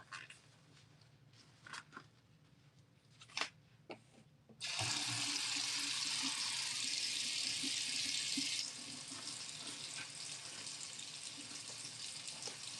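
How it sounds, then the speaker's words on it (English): A faucet runs into a sink as gloves are washed in a restroom, starting abruptly as a loud steady gush that drops a notch partway through. Faint handling noises come before it, and no one speaks. "we're going to wash these gloves"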